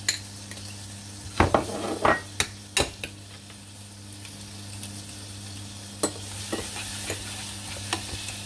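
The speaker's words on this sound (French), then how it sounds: "je vais aller l'incorporer dans le beurre" Garlic cream being stirred into about 15 grams of butter in a pan, with scattered utensil clicks and scrapes against the pan over a low steady hum and gentle sizzle.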